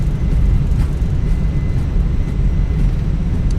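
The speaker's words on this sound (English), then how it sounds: "reversers are out" Airbus A321 thrust reversers roaring on the landing rollout in Microsoft Flight Simulator 2024, a loud, steady low rumble of engine and runway noise that holds evenly throughout with no talk.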